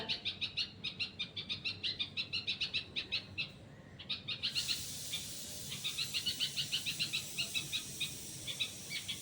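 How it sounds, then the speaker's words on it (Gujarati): A sparrow perched on a wire gives rapid, repeated bright chirps in rhythmic bursts, fairly near, with a short pause partway through and a faint background hiss. "એ તો પેલા વાયર ઉપર ચકલો બોલીશી"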